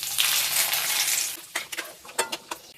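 Whole garam masala (bay leaf, cloves, cinnamon, green cardamom) dropped into melted sugar in a pan, a loud hissing sizzle at first that fades into scattered crackles and light clinks of stirring.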